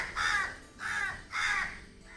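Crows caw three times in a slow, evenly spaced series, harsh and fairly close, while feeding on rice, with no other sounds.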